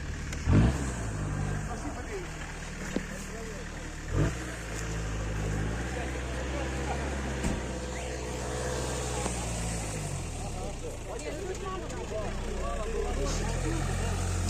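A rescue vehicle drives past at an off-road gathering of friends in Borodyanka, where a VAZ 2121 Niva sits in a pit. A steady, low engine rumble continues throughout, with voices talking over it.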